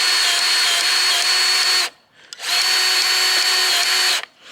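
Powered grease gun running on the joints of a drum mower, a loud steady whine in two bursts with a short pause between them, no talking.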